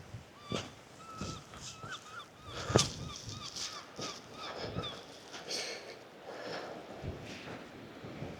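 Seabirds honk and call repeatedly near a lighthouse on the Caithness coast of Scotland, irregular overlapping cries at moderate distance over wind and outdoor ambience.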